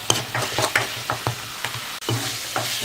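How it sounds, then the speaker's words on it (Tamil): Ground tomato sautéing in a pan for a potato and brinjal masala curry, with a soft continuous sizzle and a steady rhythm of spoon scrapes and stirring taps, close and fairly quiet. "இப்போ அரைச்சி வச்சுருக்கிற தக்காளி போட்டு நல்லா வதக்கிக்கலாம்."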